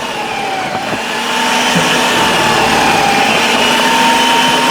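A 4-in-1 food processor that doubles as blender and juicer runs steadily and loudly, its motor whine holding a constant pitch and growing slightly louder after the first second.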